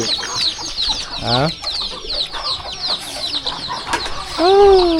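Chickens cluck and squawk around a rural village farmyard, several birds calling in short bursts near and far, with a loud rising squawk near the end over steady background noise.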